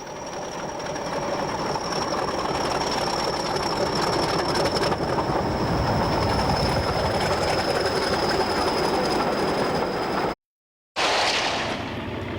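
A Class 40 diesel locomotive roars past through Princes Street Gardens, Edinburgh, with a steady, heavy engine drone and rumbling wheels, close and loud throughout, cutting out briefly near the end.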